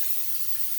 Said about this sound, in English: First, I'm going to spray the pan.